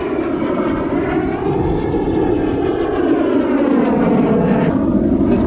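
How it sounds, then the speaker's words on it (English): A jet aircraft passing overhead above a Virginia Beach shoreline during spring fishing, a steady, loud broadband roar sustained throughout without pause. "Excuse that jet flying in the background."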